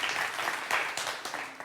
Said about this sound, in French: Applaudissez pour Vital